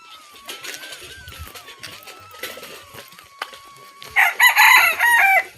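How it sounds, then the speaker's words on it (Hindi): Roosters crowing in a village on the Narmada river pilgrimage route: a faint distant crow runs under quiet background sound, then a loud, close burst of crowing lasts about a second and a half at the end. "अरे मुर्गे भी नर्मदे हर कर रहे हैं।"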